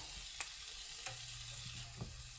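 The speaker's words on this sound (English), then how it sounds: "let it all start to cook. Pretty much like a saute with the onions" Sliced onion strips sautéing in a crockpot for beef tips with gravy, a steady soft sizzle and hiss with a few faint stirring clicks, close and quiet, no voices.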